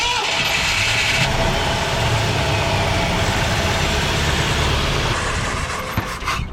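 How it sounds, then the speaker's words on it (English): A 1967 Ford Galaxie 500 with bad gas and a bent push rod cranks and catches, then settles into a loud, steady rough idle close by, running on alone without talk. "So let's see if it'll crank."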